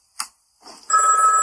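A telephone rings insistently through a quiet night at home, with a short electronic blip, then a loud, sustained bright ringing tone that fills the second half.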